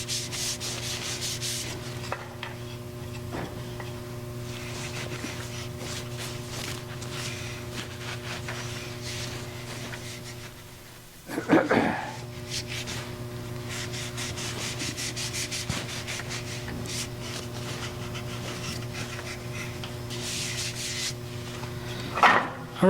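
Wax finish is rubbed onto a wooden mallet spinning on a lathe, making a soft, steady rubbing hiss over the lathe's low motor hum, with a brief pause and a couple of bumps partway through.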